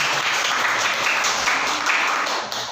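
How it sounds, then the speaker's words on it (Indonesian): A classroom of students applauds together in steady, dense clapping that holds at a fairly even level before easing slightly near the end. "Ya, tepuk tangan."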